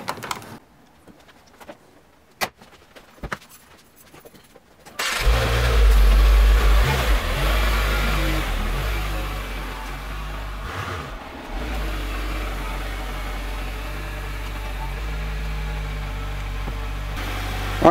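A 2015-or-later Subaru WRX starts and idles after a few light clicks, then holds a steady engine rumble as it backs out, the hum dipping briefly partway through and running on alone.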